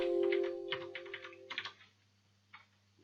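Keys clatter on a computer keyboard as an IP address is typed in, a quick run of close clicks followed by a pause and a couple of last taps, with a steady tonal hum underneath.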